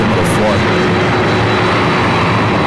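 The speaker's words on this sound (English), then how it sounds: "the Delta 767-400ER, making its way over to Terminal" A Delta Boeing 767-400ER airliner, arrived from London Heathrow, taxis toward Terminal 4 at JFK, its engines giving a steady, loud broadband roar throughout.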